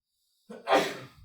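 A single sharp sneeze, close and fairly loud, with a short intake of breath before it and a trailing exhale, alone in quiet.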